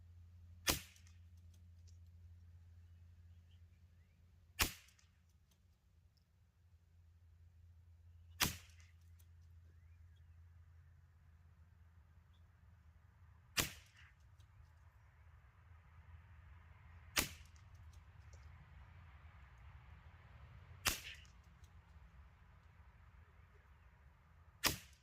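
Seven sharp .22 LR rifle reports fired with Eley Match ammunition at a range bench, spaced several seconds apart, each crisp and loud over a steady low hum and faint background noise.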